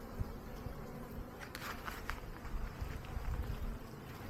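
Honeybees hum and buzz in a dense, continuous drone, close up inside an open hive during an inspection, with a few brief louder buzzes and faint rustling beneath.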